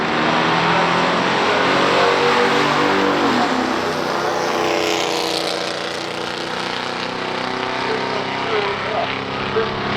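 A 1970 Buick Skylark 350 with a Turbo 350 transmission and a 1963 Studebaker Avanti launch in a stock drag race. Both engines roar loudly and climb in pitch as they pull away, while an announcer talks over them.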